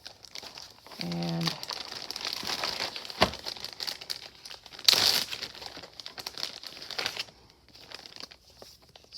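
Origami paper and sticker sheets rustle and crinkle as they are handled up close, with soft crumpling, a sharper tearing burst midway and a brief quiet voice.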